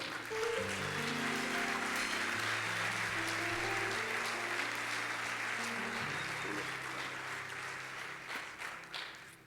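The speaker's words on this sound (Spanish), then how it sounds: "Un aplauso." An audience claps for a guest at a Spanish-language church gathering, sustained applause over a held musical tone that fades slightly toward the end.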